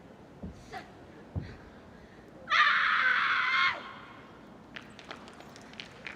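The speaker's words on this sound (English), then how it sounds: "Intense scream to end off her routine." A 17-year-old female wushu taolu athlete at a junior world championship lets out a loud, sustained scream of about a second to end her routine, rising sharply over a quiet arena with faint footsteps and thuds around it.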